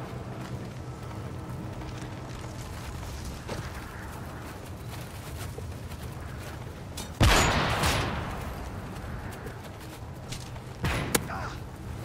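Sniper rifle shots ring out in a Modern Warfare 3 match with MSR quickscoping, two sharp cracks several seconds apart over a steady hiss of background game noise.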